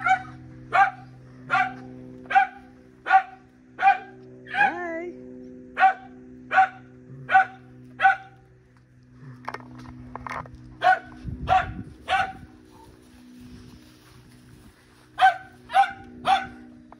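A dog barks repeatedly in a steady rhythm, loud and close, pauses briefly amid faint rustling, then resumes with quicker barks over a low hum.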